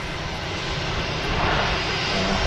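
A Lufthansa Airbus A321 taxis at Manchester Airport, its jet engines giving a steady, broad, loud roar that swells slightly toward the end, with no talking.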